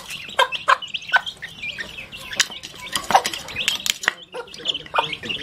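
A hen clucks softly in short bursts while Aseel chicks peck and scratch at feed, with a brief flutter of wings, close by and no voices.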